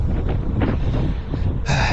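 Gusty afternoon wind buffets an outdoor microphone on a hot Sahara cycling trip toward Hammam Bouhjar, a steady low rumble with brief rising gusts and a harsher hissing blast near the end.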